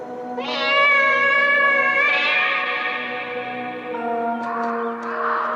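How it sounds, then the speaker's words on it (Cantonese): Spooky effect of cats meowing and caterwauling, long wavering harmonic wails rising and falling with echo, loud and continuous throughout with no talking. "就會傳嚟一啲好恐怖嘅貓叫聲"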